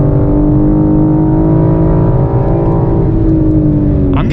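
A 2021 BMW M4 with a six-speed manual on a race track, its engine droning loudly and steadily from inside the car, holding a sustained tone with a slight shift in pitch toward the end.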